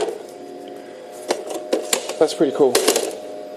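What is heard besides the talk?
printer built into an Ericsson luggable microcomputer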